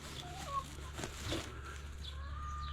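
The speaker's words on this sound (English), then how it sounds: "Chicken, get down." A farmyard chicken gives a few soft, faint clucks and brief calls over a steady low background hum during evening chores.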